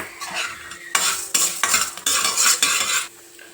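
Coriander seeds, urad dal and cumin roasting in a pan, with loud scraping and stirring strokes in bursts and a soft sizzle underneath, no voices.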